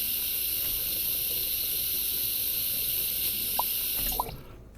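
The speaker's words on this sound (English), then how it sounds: "First fill it with 1 litre of cold water" Water runs steadily into a pot in the Cooking Simulator video game, a continuous hissing pour with a couple of small drips near the end before it cuts off abruptly.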